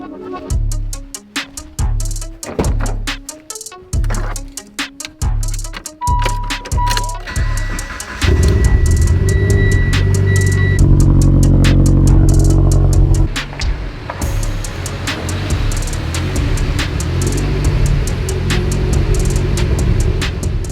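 A Mitsubishi Evo 10 engine cranking in a series of sharp starter bursts, then catching into a loud steady idle that rises as the car pulls away and drives off, close and dominant.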